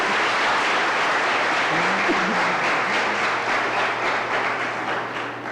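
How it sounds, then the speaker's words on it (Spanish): A congregation at a church service applauds a preacher who also sings, with dense, sustained clapping from a large crowd that fills the space and slowly fades toward the end. "Y eso merece un buen aplauso."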